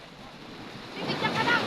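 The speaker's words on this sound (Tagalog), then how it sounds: "Tingnan nyo, oh, lalakas ng alon." Strong ocean waves wash and surge close by, the rushing surf swelling louder toward the end under gusty wind buffeting the microphone.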